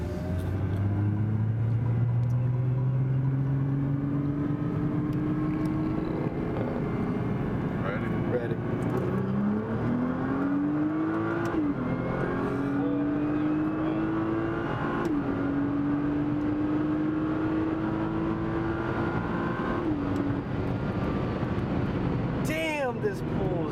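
A 2011 Nissan GT-R accelerating hard, heard from inside the car: engine drone climbs steadily in pitch through several gear changes, with a continuous rumble throughout.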